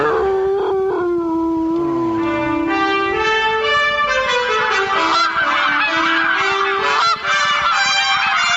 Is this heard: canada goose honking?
yes